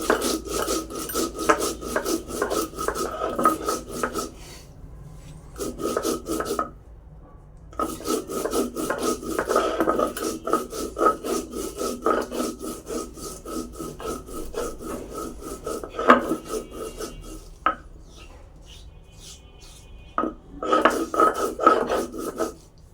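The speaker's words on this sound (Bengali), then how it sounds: "অল্প জিরা বেটে নিব।" Cumin is ground by hand on a stone pata slab, heard as rhythmic scraping and rubbing strokes, close and fairly loud, running in long bursts broken by short pauses and a few light knocks of stone.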